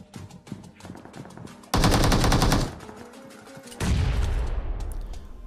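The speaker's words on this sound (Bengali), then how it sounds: "আর আমি বোমটা সিঁড়ির দিকেই মারা দেই।" A grenade blast in the PUBG mobile game lands inside a rapid barrage of automatic gunfire. Two long, loud bursts of explosive noise follow sharp scattered shots, and a decaying rumble trails the second burst.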